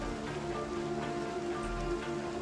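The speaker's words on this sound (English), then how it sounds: "Well, it is raining." Steady rain falling in the video game Project Zomboid, a dense even hiss with soft patter throughout and a faint low hum beneath, with no talking.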